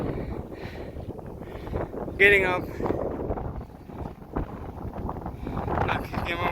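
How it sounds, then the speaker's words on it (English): Rough, gusting wind on Camelback Mountain in Phoenix, Arizona buffets the microphone throughout while a person speaks briefly over the blustery roar. "it's really windy up here."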